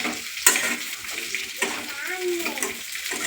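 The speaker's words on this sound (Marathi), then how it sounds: "वांगे त्याला मग टाकून घ्यायचे आणि ते चांगले फ्राय करून घ्यायचे" Stuffed brinjals frying in a pan over medium heat, a close, bubbling sizzle broken by spatula knocks and stirring scrapes, with a voice talking over it.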